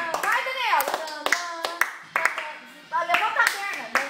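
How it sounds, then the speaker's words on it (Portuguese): Audience applause at a capoeira performance, scattered claps rising and falling beneath lively overlapping voices and someone speaking nearby. "É a plateia, tá batendo palma."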